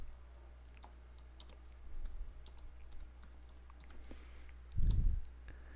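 Password being typed on a computer keyboard: faint scattered key clicks over a low hum, with a louder thump near the end.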